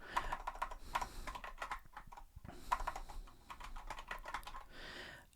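Fast, steady typing of Python code on a computer keyboard, close and crisp, with dense bursts of key clicks and brief pauses between runs.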